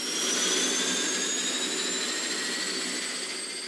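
Hurricane hunter aircraft engines droning steadily with a whining high-pitched tone over a constant roar, close and continuous for a few seconds with no talk.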